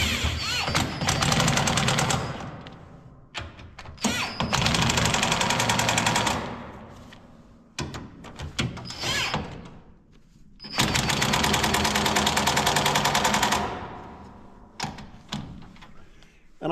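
A power tool tightening stud bolts on the rotor of a Gleaner R52 combine, running in long loud bursts of several seconds with short pauses between them, close up.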